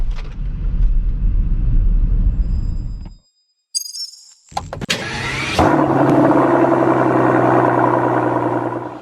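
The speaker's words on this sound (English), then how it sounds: "Let's do a race start. 3, 2, 1." A 2023 Mercedes-Benz EQS 580 electric SUV makes a race start, with a brief pause and a clink before a steady, loud whine and rush of acceleration that builds and holds.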